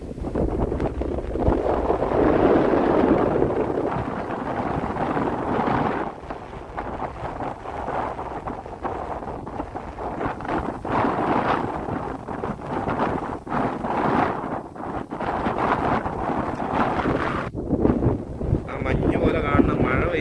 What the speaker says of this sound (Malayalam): നല്ല കാറ്റാണ് ഗൈസ്